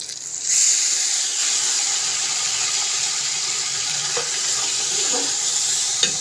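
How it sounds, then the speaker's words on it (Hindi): Chickpea cooking water pours into a pan of onions for chickpea rice, a steady, close hissing rush of liquid that starts abruptly and runs continuously without speech. "ये देखें जो चनों वाला पानी वो लगाने लगे हैं।"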